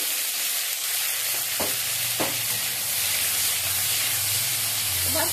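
Chopped tomatoes sizzle in a hot pan, a loud, steady frying hiss with a couple of sharp stirring knocks and spatters, no talking.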